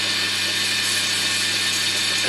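Sandpaper rubbing a CA glue finish back to bare wood on a pen blank spinning on a woodturning lathe, a steady loud broadband hiss with a low motor hum underneath, continuous and close with no talking.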